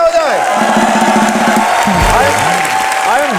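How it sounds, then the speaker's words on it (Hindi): A studio audience at a live Hindi comedy show bursts into loud applause and cheering, with whoops rising over steady clapping throughout. "धर्म जी के लिए जोरदार तालियां हो जाए।"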